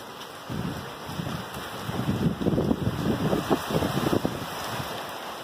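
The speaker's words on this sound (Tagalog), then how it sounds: "Hindi biro-biro yung hangin ito." Strong typhoon wind from Ulysses gusts through Angeles City, Pampanga, a loud, turbulent rushing roar that swells and buffets in waves across the recording with no voices.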